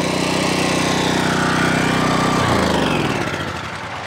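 A small portable generator engine runs loud and close with a steady droning hum, then its pitch drops midway as it begins winding down.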